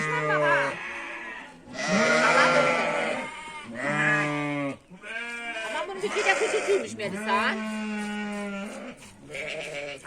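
Sheep bleat loudly and repeatedly during milking in a village pen, long wavering calls overlapping near at hand, while people talk among the animals.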